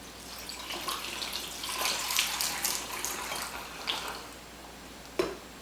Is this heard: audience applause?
no